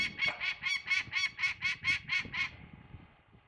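Series of about ten evenly spaced, nasal honking calls from a bird, probably a goose, by the Mackenzie River in the Arctic, loud and clear before fading into quiet ambience.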